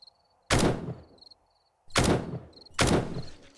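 Loud close bursts of M60 machine gun fire in the video game 7 Days to Die, three separate volleys each ringing out briefly, with a faint high electronic tone between them.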